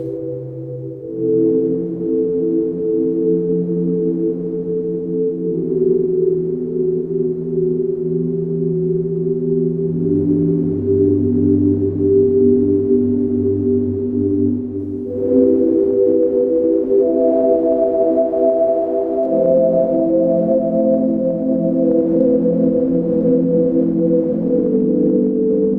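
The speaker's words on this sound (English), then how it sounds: "I came up with this little synth patch, and it sounds and looks like this." A noise-based synth patch built in Pure Data, playing sustained, tonal chords that shift every few seconds, held drones with steady loudness and no voices.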